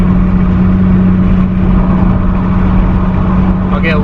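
A 2015 Chrysler 200 with a 3.6L V6 and ported throttle body pulls away from a stop with a loud, steady engine drone and a low hum. A faint voice appears near the end.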